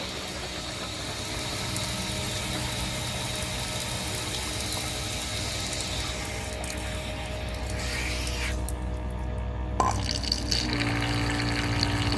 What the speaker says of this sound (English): Turn on the garden hose.